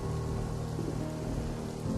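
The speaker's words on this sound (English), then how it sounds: "They stepped out into the rain by the old tree." Rain falling by an old tree outdoors, a dense, steady hiss of drops without pauses, fairly close and uninterrupted by any voices.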